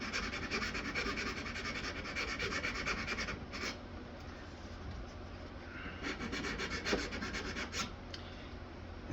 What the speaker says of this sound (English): You want to try and keep the file as flat up against the side as you can.